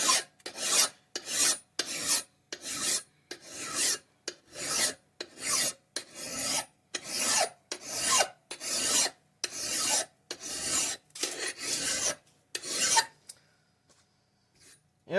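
A file rasps along the rusty edge of an axe head in a dozen steady back-and-forth strokes, loud and close, then stops with quiet at the end.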